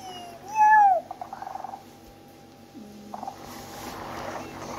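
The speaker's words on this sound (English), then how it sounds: "Play with my calico cat." A calico cat lets out a clear rising meow up close, followed by softer murmuring sounds and faint purring against quiet background noise.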